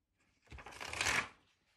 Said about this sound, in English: I kind of want to rip this off.